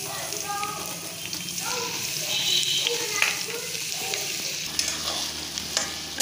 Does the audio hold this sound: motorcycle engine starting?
no